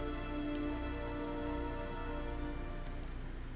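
Steady rain falls in the fantasy role-playing game Pillars of Eternity, a continuous even patter across the whole stretch with no voices over it.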